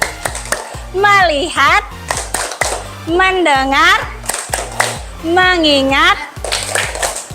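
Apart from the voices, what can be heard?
rhythmic 'tepuk fokus' clapping chant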